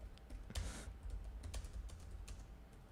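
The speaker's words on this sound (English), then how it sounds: "I'm not just typing to myself." Fingers tap steadily across a computer keyboard, close and fairly quiet, in an irregular run of soft clicks and heavier key thumps with no talking.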